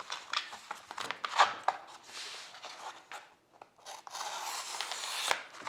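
A blade cutting through a sheet of Oramask stencil film in a beginner CNC workshop setting: a close series of short scraping, rasping strokes, some sharp and some drawn out, with a brief pause midway before the cutting sound resumes.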